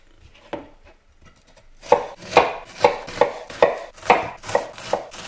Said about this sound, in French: On va hacher l'oignon.